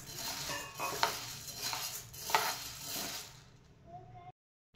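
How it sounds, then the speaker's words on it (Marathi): Sago pearls being roasted and stirred in a wok over medium heat, a close scraping and rattling stir with light clinks, fading out near the end. "त्याच कढईमध्ये लगेच आपण साबुदाणा भाजून घेणार आहोत।"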